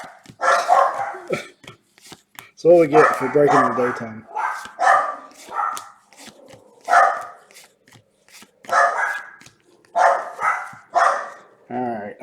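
Small dogs bark and yip in repeated sharp bursts, loud and close, mixed in with a person talking over the noise.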